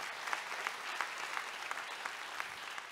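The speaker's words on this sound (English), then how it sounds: "Go ahead and clap for that." Church congregation applauding during a sermon, a steady wash of moderate, fairly distant clapping that holds evenly for the whole stretch with a few sharper claps standing out.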